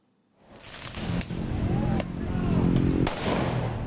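Several sharp firecracker bangs pop at irregular intervals over a steady roar of crowd noise and voices during a clash near a university campus.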